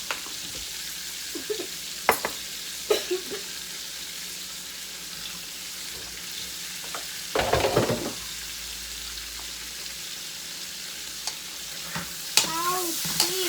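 Meat seasoned with black pepper fries in a pan at a Louisiana campsite, a steady soft sizzle running throughout with a few sharp clinks and stirring scrapes, plus brief faint voices near the end.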